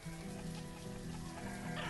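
Chickens cluck in the village-building game Banished, a short burst of fowl sounds over steady ambient game noise, fairly quiet and close.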